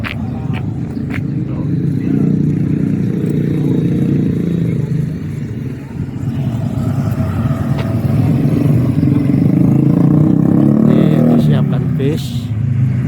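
Shuttle bus engine idling and revving amid road traffic, with passing vehicles and a few clattering knocks, heard close under ongoing conversation in Indonesian.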